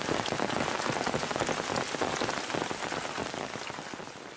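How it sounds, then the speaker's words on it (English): Heavy rain pours down in a dense, loud, continuous patter on a surface, with no voices. "So the rain's starting to come down harder."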